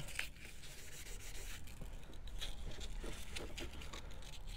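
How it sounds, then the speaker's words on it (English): A square-wire split-shank ring is hand sanded with 400 grit paper, a soft, close, steady scratchy rubbing in quick repeated strokes, quiet and alone. "I'm just going to go ahead and sand while I'm here. This is 400."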